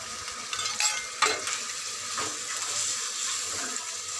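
Chopped tomatoes and a turmeric-chilli paste mixed with water frying in a pan, a steady close sizzle with bursts of stirring scrapes, loud at first and settling into a continuous hiss.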